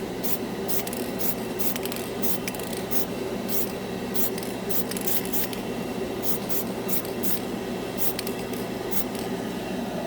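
Krylon chrome spray paint hisses from an aerosol can onto bare plastic in a continuous close spray, with a faint steady hum beneath and light ticking clicks scattered throughout.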